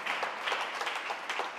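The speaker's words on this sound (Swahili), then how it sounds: "Pia Yesu makofi" A church congregation applauds for Jesus during a Christmas service, a soft, steady wash of many clapping hands heard at a distance, swelling slightly in waves.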